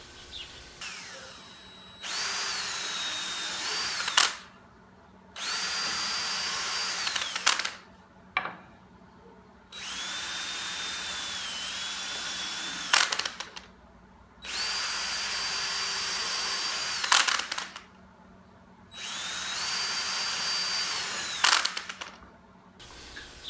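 A DeWalt DCD771 cordless drill/driver whines in five long, loud bursts separated by short pauses, with faint clicks and rattles in between as the trigger is released, no talking.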